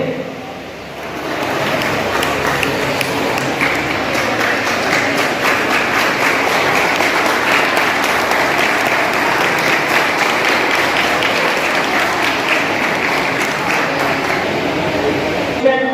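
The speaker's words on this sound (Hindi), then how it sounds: "जोरदार तालियां हो जाएं।" An audience claps at a school chess competition prize ceremony. Steady, dense applause rises quickly after a quiet first second and holds loud and continuous for the rest, filling the hall.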